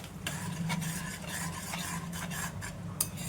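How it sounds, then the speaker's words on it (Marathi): Pav bhaji vegetables with turmeric being sautéed in a pan, giving soft rhythmic scraping stir strokes over a low, steady sizzle, close and moderately quiet. "आपल्या अंदाजे चांगलं परतून घ्यायचं, शिजायला द्यायचं"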